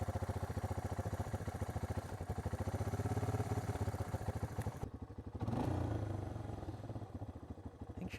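A Honda Fourtrax 300 ATV engine idling after a carburetor adjustment, running close with a steady, even chugging pulse and a brief blip of throttle partway through.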